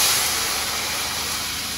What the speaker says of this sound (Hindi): तड़का मार दिया हमने दोस्तों,